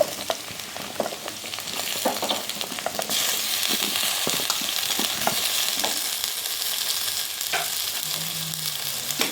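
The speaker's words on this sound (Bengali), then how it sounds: "পটলগুলো আমি এখন পেঁয়াজের সঙ্গে একটু ভেজে নেব" Pointed gourd pieces frying with lightly browned onion in hot oil for a fish curry, a constant close sizzle broken by scraping stirs and clatters of the spatula against the pan.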